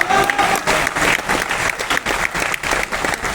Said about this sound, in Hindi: आपकी ये तालियां हमारे लिए क्या मायने रखती है